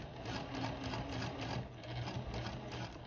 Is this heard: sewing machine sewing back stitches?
yes